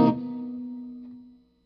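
A single electric guitar note through a DV Mark Multiamp with the reverb turned down rings out and fades within a second or so, leaving only a short, dry tail.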